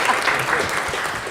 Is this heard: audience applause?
yes